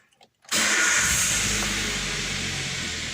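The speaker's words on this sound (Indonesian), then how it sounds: "Nah, kurang lebih seperti itu suara mesinnya." A 2014 Daihatsu Terios TS Extra engine cranks and catches after a brief starter sound, then settles into a steady, loud idle that echoes indoors.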